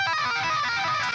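High tapped electric guitar notes in a metal arrangement, a bright ringing sustained line with shimmering overtones, steady and moderately loud, heard alone with no talking.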